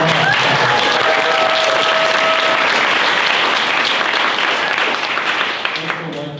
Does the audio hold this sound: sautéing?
no